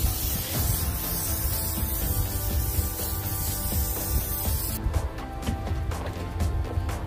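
Steady hissing spray with a rubbing, scrubbing texture as a mat for a cargo trailer ramp is sprayed down runs throughout, close and fairly loud, then turns into brief rhythmic bursts near the end.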